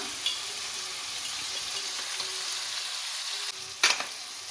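Onions, tomatoes and curry leaves fry in a pan for a potato gravy, a loud, steady sizzle that carries on unbroken, with a short clatter of stirring near the end and no voices.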